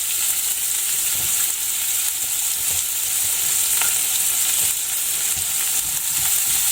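Finely chopped onion and garlic sizzle in a pan while being stirred, a dense steady frying hiss punctuated by repeated scraping strokes of a spoon, close and fairly loud.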